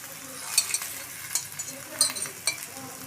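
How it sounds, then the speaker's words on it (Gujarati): Chil leaf (bathua) flatbread cooking in oil on a griddle, a steady close sizzle and frying hiss broken by occasional light scraping and clinking of a utensil. "હવે તેની પાછળ તેલ પાડી અને સરસ રીતના ચડવી લઈશું"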